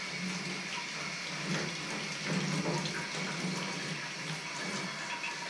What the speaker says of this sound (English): I'm going to go ahead and give it a little rinse